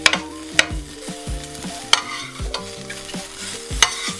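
Hot pre-cooked sausages fry in a pan, with a steady sizzle broken by sharp scraping clicks from a utensil several times, close up and with no talking.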